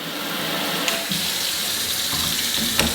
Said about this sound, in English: So let's turn the water on.